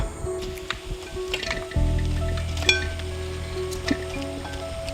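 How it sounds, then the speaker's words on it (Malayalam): Country chicken pieces dropped into a pan of fried shallots and dried red chillies, setting off a steady sizzle after a wet squish, with scattered clinks of a utensil against the pan. "ഇനി നമുക്കിതിലേക്ക് ചിക്കൻ ചേർത്ത് കൊടുക്കാം."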